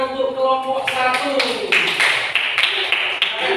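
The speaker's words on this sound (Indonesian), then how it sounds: "beri tepuk tangan untuk kelompok 1" Classroom applause for a student group breaks out while a teacher is still talking, quick close clapping rising under and after the voice.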